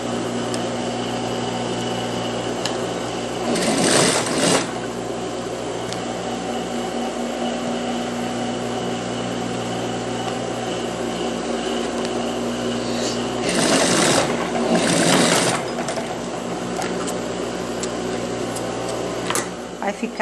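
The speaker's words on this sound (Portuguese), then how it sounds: "Aqui eu vou passar também a costurinha de pesponto rente, seguindo aqui até a metade da cava." A sewing machine topstitches close along the armhole of a child's dress, running in two brief, loud bursts of rapid stitching over a steady background hum.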